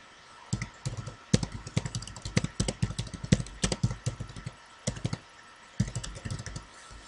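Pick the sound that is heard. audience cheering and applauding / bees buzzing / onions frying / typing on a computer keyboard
typing on a computer keyboard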